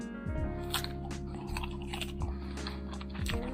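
Someone bites into and chews a ripe Taiwanese white-fleshed Shuimi guava up close, with a series of crisp, crunchy bites and moist chewing over a low background hum.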